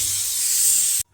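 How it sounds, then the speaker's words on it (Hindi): A kitchen pressure cooker whistle lets off a strong, steady hiss of steam for about a second, loud and close, then cuts off abruptly into silence. "और हमारे कुकर में सीटी भी आ गई 3-4"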